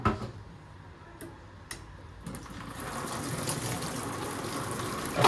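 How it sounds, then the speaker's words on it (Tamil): Water from a tap gushes out with strong force while washing at home, a steady, fairly loud rushing flow that builds after a few faint clicks and then runs continuously. "நல்ல ஃபோர்ஸாக தண்ணி வருது."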